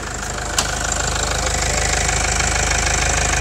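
A Toyota Hilux 4x4 pickup fitted with a hydrogen HHO kit runs at a steady idle, loud and close with an even rumbling knock, a single sharp click early on.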